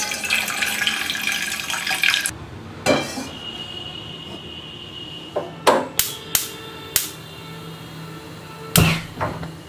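Tap water running into a kettle for tea, a rushing stream for a couple of seconds, then sharp knocks and clinks of the kettle and lid, close in a quiet room.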